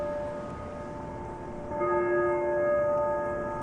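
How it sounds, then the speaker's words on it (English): Church bells toll inside the ruined shell of St. Giles church in Germany, a steady ringing tone that swells slightly louder midway and carries over a faint background hum. "4 times a day, the bells toll in the shell of what was once the thriving and prosperous church of St. Giles"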